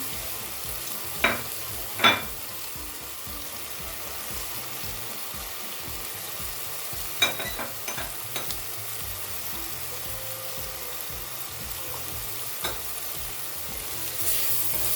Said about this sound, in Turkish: Salçamı da güzelce kavuruyorum kokusu çıkana kadar.